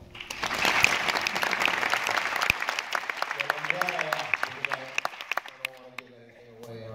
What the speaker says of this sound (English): will the people who have not seen this movie please applaud?